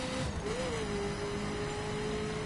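A steady car engine hum with a rising and settling whine, continuous and fairly loud, like a vehicle driving along in a game.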